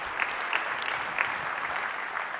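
Audience applause at a software company's conference keynote, a steady, moderately distant patter of many hands clapping with a few sharper claps standing out.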